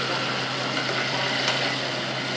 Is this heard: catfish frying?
yes